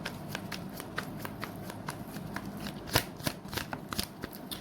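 Tarot cards being shuffled by hand, close and quiet, a run of quick papery riffles and soft slaps in irregular bursts, with one sharper snap near the end.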